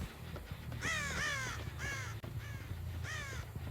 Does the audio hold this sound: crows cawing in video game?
yes